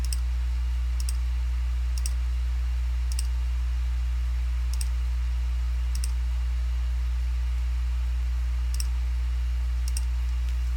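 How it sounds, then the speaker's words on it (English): Mouse clicks while measuring a distance in Google Earth: sharp, faint single clicks spaced about a second apart over a loud steady electrical hum, with no one speaking. "And click again, click again"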